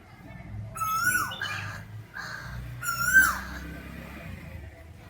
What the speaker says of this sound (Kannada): ಕಾಗಿನೂ ಕೂಗಾತೈತೆ ಮಾವಿನ ಮರದಾಗ ಕುತ್ಕೊಂಡು ಬಂದು ಕೂಗ್ತೈತೆ